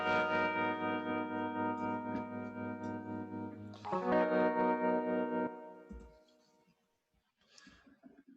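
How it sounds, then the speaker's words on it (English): A synth or instrument sound run through a distortion effect with the drive boosted in Ableton, playing as a dense, sustained, harmonically rich tone with a loud surge partway through, then cutting to near silence and a faint tail. "we can mix in some of the original sound with some of the distorted sound if we want to moderate it"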